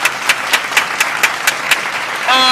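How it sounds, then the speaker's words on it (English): Audience at an awards show clapping in a quick, even rhythm of about eight sharp claps, close and clear, followed by a brief tonal sound at the end. "Y'all give them a clap."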